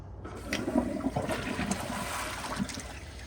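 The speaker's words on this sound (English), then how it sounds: "Okay, here's a half flush." A 2014 elongated Glacier Bay dual-flush toilet runs a half flush, a steady close rush of water draining and swirling through the bowl for several seconds.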